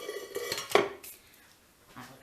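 A metal cooking pot is handled close by with a few sharp clanks and a bright metallic ring that fades, followed by a softer knock.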